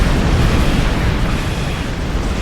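An overcharge lance weapon fires in Star Trek Online space combat, a loud, dense roaring blast that fills the whole stretch without a break.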